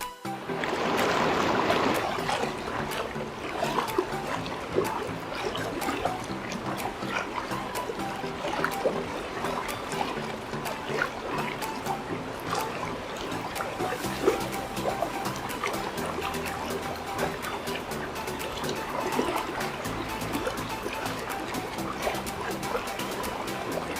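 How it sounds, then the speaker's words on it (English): The San Juan River in Colorado flows steadily, a continuous broad rush and trickle of moving water that holds an even, moderately loud level throughout, with no talk over it. "the sound of the river made for a peaceful and restorative night's sleep"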